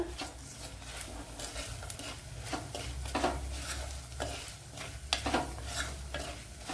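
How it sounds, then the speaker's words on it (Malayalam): Spice powders fry in oil in a pan for lemon pickle, a soft continuous sizzle broken by repeated scraping strokes of a spoon against the pan, close and moderately loud. "അപ്പോൾ ഇവിടെ പൊടി ഐറ്റങ്ങളൊക്കെ ഫ്രൈ ആയി വന്നിട്ടുണ്ട്."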